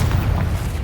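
A Confringo fire spell bursts in Hogwarts Legacy with one heavy, booming blast. Dense low rumble runs the whole short moment, loud and close, with no voices over it.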